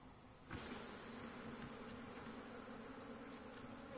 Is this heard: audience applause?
no